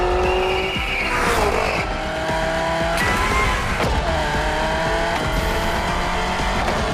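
A Genti Accolone races in The Crew Motorfest, its engine roaring steadily at high revs with rising and falling pitch through gear changes, tires squealing as it drives, loud and continuous with no talk.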